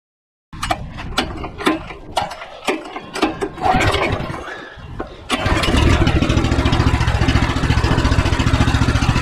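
A pressure washer engine is pulled and started with a few rattling mechanical tugs and sputters, then catches and runs at a steady loud drone for several seconds, close up.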